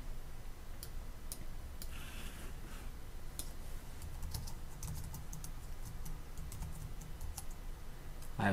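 Keys clatter on a computer keyboard in quiet, irregular bursts of faint close clicks, with short pauses between runs of typing.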